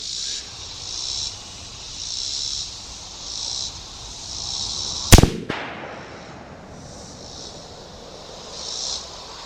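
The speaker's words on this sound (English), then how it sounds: "let's take a shot from back here at 100 and see where it hits" A single sharp rifle shot from a Ruger American in 6.5 Creedmoor at a 100-yard range, loud and cracking against steady insect buzz, with a brief rolling echo trailing off.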